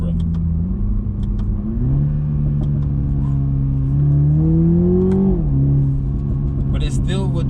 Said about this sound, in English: it still will do burbles, cracks, and pops from the exhaust